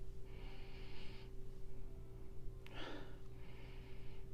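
Close, quiet nasal sniffs at a pumpkin pie scented candle: two long inhaled sniffs with a sharper snort-like breath between them, over a faint steady hum.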